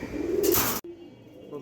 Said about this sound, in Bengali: দেন ফুল মাস্তি কবুতর, খুবই সুন্দর কবুতর।